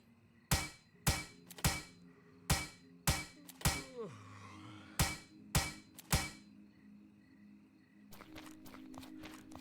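A hammer strikes scrap cars in the survival game Plains of Pain, about ten sharp, evenly spaced metallic blows over a low hum. A quick flurry of lighter impacts follows near the end.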